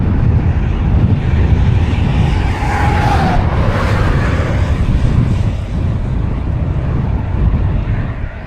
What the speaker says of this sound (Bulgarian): Има доста силен вятър, добре, че за момента ни е страничен